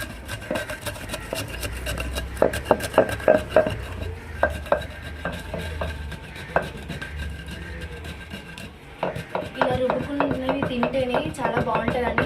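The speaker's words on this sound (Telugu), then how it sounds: "కొంచెం ఫాస్ట్గా రుబ్బుకోండి అప్పుడు తొందరగా అయిపోతుంది" Mint chutney is ground by hand in a stone mortar, with bursts of rapid knocking and scraping strokes, some loud and some softer, as a voice talks over the work.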